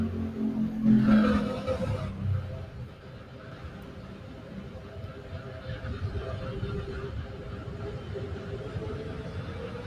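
Airplane engine in the Roblox game Flight Line throttling up, a steady mid-loud rumble that swells briefly early on and then holds as a continuous drone beneath someone talking.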